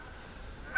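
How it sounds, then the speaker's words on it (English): Canada geese on a frozen island give a single short honk near the end, faint and distant against quiet outdoor air. "Those birds in the background are called Canada geese."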